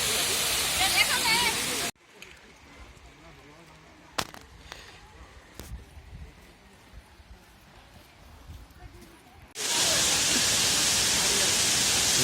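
Water rushes at Ajodhya Hill in a loud, steady hiss at the start and end, with a quieter stretch in between that carries faint movement and a few clicks.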